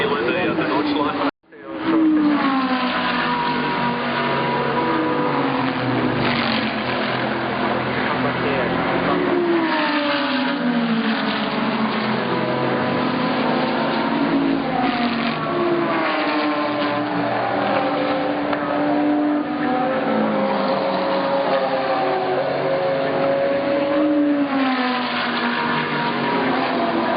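Race cars lapping at the Bathurst 12 Hour, engines roaring loud and continuous with repeated rising and falling pitch as cars pass and shift gears, with speech running over them throughout.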